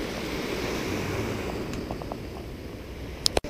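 Ocean surf washes steadily near a seaside resort, a soft continuous roar mixed with wind buffeting the microphone, ending with a couple of sharp knocks.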